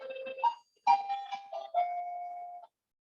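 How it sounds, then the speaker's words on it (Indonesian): A house doorbell rings in a sequence of bright chime tones, several distinct notes sounding clearly with no talk over them before falling silent. "Tuh bel rumah saya tuh. Ada tamu."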